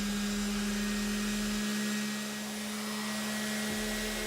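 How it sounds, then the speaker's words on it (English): A random orbit sander with roughly 150 grit sandpaper runs on wood for a wooden grill scraper, a steady close motor drone and whirring hum with a slight dip in level partway through. "Now I'll use my random orbit sander with about a 150 grit."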